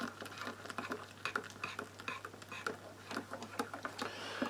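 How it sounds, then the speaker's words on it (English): A US MRE spoon stirs instant cappuccino mix in a mug, producing soft, rapid clinks and scrapes in a continuous rhythm that is close and fairly quiet. "We've got a nice stir there."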